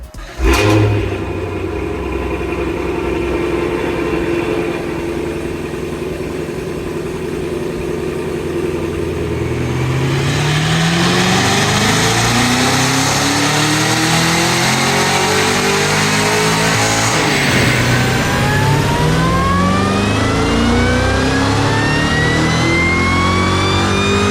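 A Cadillac CT5-V Blackwing's supercharged engine on a dyno run idles steadily, then roars into a long, loud rev sweep with climbing pitch before easing back, with no talk over it.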